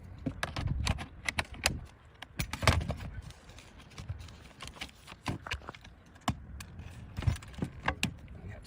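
Metal roof panel being cut out during skylight removal work, heard as a run of sharp, irregular metallic clicks and snips with clanks and rattles over low background rumble.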